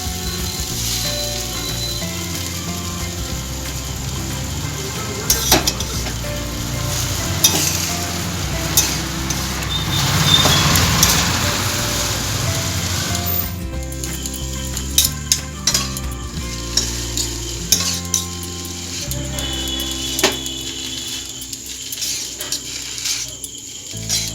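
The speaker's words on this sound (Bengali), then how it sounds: "এরপর খুব ভালো করে নাড়তে থাকবো যাতে সব উপকরণগুলো ভালো করে মিশে যায়" Veg chowmein with tomato sauce is stirred in a hot pan, with a continuous sizzle under repeated scraping and clanking of a utensil against the metal, close up, louder in bursts, with no talking.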